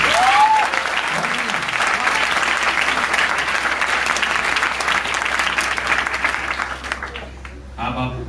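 An audience at a Hindi comedy poetry gathering at a coaching center bursts into loud, sustained applause with scattered cheers, the clapping dense and continuous before thinning out near the end, with a voice briefly heard over it.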